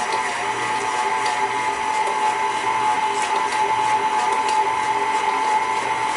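Electric mixer whirring steadily through cookie dough with vanilla extract and two beaten eggs, a constant close motor hum that holds level for the whole stretch with no voices.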